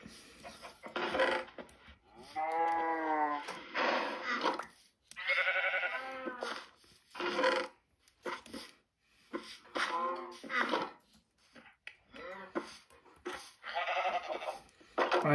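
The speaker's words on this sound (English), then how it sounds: "I'm gonna go get the sheep now. There's more sheep." Sheep in the Minecraft video game bleat repeatedly, a string of loud, wavering baas spaced across the stretch with short gaps between calls, no talking over them.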